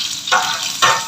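Garlic hits hot oil on a grill pan and sizzles loudly and close, with two bursts of crackling hiss about half a second apart over a constant frying background, with no talking.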